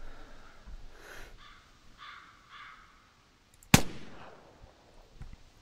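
A single sharp gunshot cracks out while hunting willow ptarmigan in Hemmedal in the game The Hunter, loud and abrupt against quiet ambience with faint bird calls before it.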